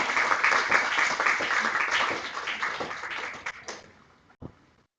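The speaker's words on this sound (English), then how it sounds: "Give a big round of applause." An audience at an academic lecture event applauds as guests come on stage, with steady clapping for about four seconds that thins out and fades, ending with a few scattered claps.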